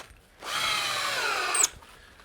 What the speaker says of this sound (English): Drill driver.